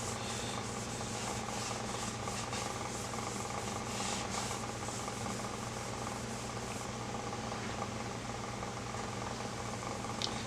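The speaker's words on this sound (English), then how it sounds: "Make sure we get it all rubbed in nice and pretty." Steady close rubbing of a cloth working finish into a turned poplar wood urn, a continuous soft scuffing texture over a low background hum, with no talking.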